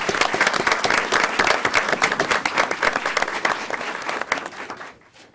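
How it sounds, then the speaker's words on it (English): Attendees at a county commissioners meeting give a round of applause for an honored employee, a full, dense burst of clapping that fades away at the end. "Round of applause, please."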